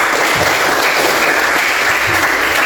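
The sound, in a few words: applause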